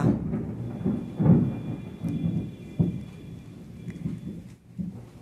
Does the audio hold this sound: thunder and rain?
yes